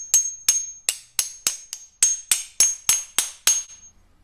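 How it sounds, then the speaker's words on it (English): A hammer strikes a pin into the door hinge of a 1967 Pontiac Firebird: eleven sharp metallic blows close to the microphone, evenly paced about every third of a second, each with a short ringing tail. "I need to grab my hammer to push that pin down in there"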